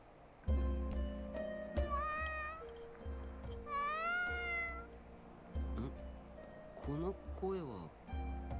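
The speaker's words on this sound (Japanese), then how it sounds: "この声は猫。" A cat meows several times in rising, plaintive calls from an anime game scene, set over background music and low ambient tones, with no speech.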